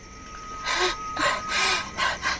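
Rapid, heavy gasping breaths from a frightened woman, five loud, close bursts of air in an uneven rhythm over a steady faint background hum, with no talking.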